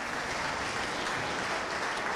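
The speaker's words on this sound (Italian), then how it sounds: "Sentite anche gli applausi qui della palestra di Via Carducci" A crowd applauds in a boxing gym on Via Carducci at the end of a round in an amateur boxing memorial bout. The clapping is steady and fairly distant, forming a dense, continuous patter with no voices standing out.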